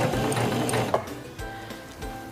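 Singer Simple 3232 sewing machine stitching through fabric, a fast close mechanical whirr and rhythmic needle clatter that pauses briefly and restarts in short bursts.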